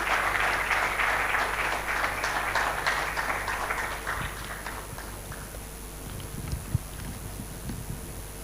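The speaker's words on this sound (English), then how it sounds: "Please a round of applause for him." Dense audience applause at a formal conference on financing sustainable energy and agriculture infrastructure, honouring a minister's representative; a steady wash of clapping that thins toward the end, with faint shuffling and low background noise.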